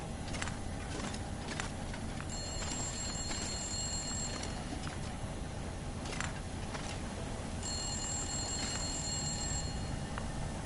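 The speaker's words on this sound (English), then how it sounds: "J'aimerais bien répondre au téléphone comme vite fait." Telephone ringing in the survival video game The Long Dark, two ringing bursts set against a steady low hum, moderately faint and with no voices over them.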